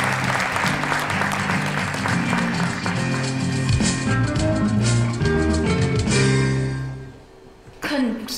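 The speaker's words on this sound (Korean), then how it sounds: "모두 큰 박수로 맞이해 주시면 대단히 감사하겠습니다" An audience at the 2015 Seoul Humanities Forum opening ceremony claps loudly and steadily for the opening speaker, the sustained applause filling the hall for several seconds before fading out, with a voice briefly heard near the end.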